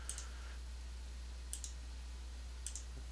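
An old, slow computer's mouse button gives three light, sharp clicks, about a second or more apart, over a steady low hum.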